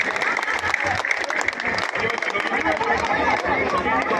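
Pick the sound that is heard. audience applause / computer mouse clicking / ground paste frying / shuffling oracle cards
audience applause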